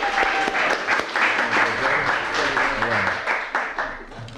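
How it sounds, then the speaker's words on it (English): Audience applause at a 1998 Bayview poetry reading fills the room with dense, steady clapping that stays loud the whole time, with a few voices and cheers mixed into the crowd noise. "let's give Reverend Bertron Bruno a great round of applause."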